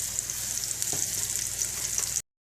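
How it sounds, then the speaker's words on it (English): A batch of food sizzles and fries steadily in a hot pan, a loud, continuous crackling hiss with a brief clatter as pieces are turned over, then it cuts off abruptly. "this is my last batch that I'm frying up. I'm turning them over."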